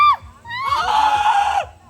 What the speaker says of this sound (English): Let her scream.